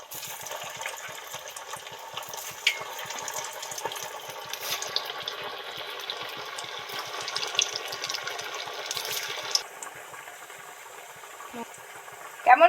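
Soya koftas deep frying in hot oil, a soft steady bubbling and sizzling hiss with faint rapid crackles throughout, fairly quiet and even, ending in a couple of louder clatters.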